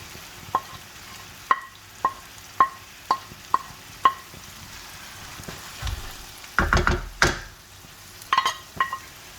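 Potatoes and eggplant are stirred into grated tomatoes and spices in a pan, a low sizzle under a steady series of sharp spoon clinks against the pot, then a louder scraping stir and a few more taps.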